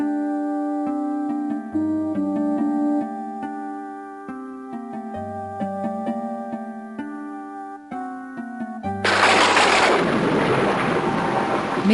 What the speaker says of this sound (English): This rain's really coming down.